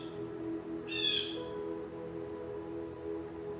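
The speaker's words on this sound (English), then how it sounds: "Y'all hear the blue jay?" A blue jay gives a single loud, harsh call lasting about half a second, standing out over a steady low hum in an indoor space.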